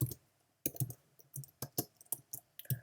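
Keys tapped on a computer keyboard in short, irregular bursts of sharp clicks separated by brief pauses, close and fairly quiet, with no voices.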